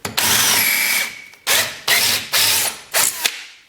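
A power drill whirs loudly in one long burst, then fires in four short bursts with brief pauses between, close by, while mounting a speedometer on a dirt bike.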